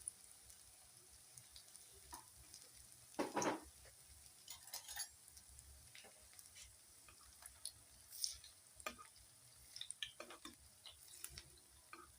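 Eggs frying in a pan for egg paratha, with a faint, steady sizzle running underneath and occasional clinks and scrapes of a utensil turning them.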